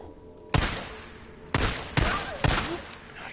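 Gunshots in Days Gone ring out as four sharp, loud reports spaced unevenly over about two seconds, each trailing into a short echoing decay, with no voices.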